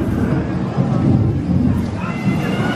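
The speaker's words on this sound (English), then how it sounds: "The lightning storm up here." A simulated thunderstorm effect inside the Rainforest Cafe at Disney Springs rumbles low and steady, like rolling thunder and rain, with an indoor crowd murmuring faintly beneath it.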